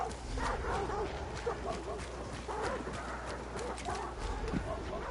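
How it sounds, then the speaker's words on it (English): Dogs bark repeatedly in a video game set in a Neolithic era, a run of sharp barks and yips over a busy ambient background with faint voices. "That's me with the dogs"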